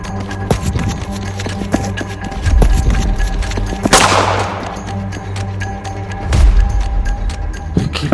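Gunshot sound effects in a Bangla audio detective story, two sharp loud cracks a few seconds apart, the first with a noisy decaying tail, over a low rumbling background bed and a rhythmic clopping.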